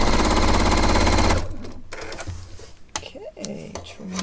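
A sewing machine stitches strips of scrap quilt fabric for a log cabin quilt block, a loud, fast, rattling buzz for about a second and a half, followed by quieter handling sounds and a voice.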